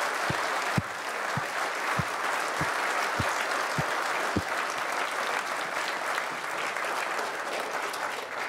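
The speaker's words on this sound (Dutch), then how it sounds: "Een daverend applaus voor deze mensen die dat willen." Applause at a municipal debate in Noardeast-Fryslân: sustained, fairly distant clapping from a hall audience, with a few sharp low thumps in the first seconds.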